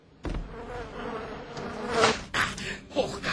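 Mosquito-like insect buzzing, a thin whine that rises and falls near the listener over about three seconds, with louder swells toward the end.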